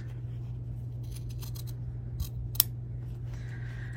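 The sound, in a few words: scissors snipping fabric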